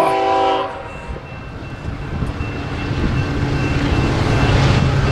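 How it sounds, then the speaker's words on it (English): Eastbound empty grain freight train rolling past the Tehachapi Depot, a horn blast opening the clip before a steady, loud rumble of passing cars and wheels that builds slightly, with no talk. "Here comes an eastbound empty grainer that just happens to be rolling through Tehachapi."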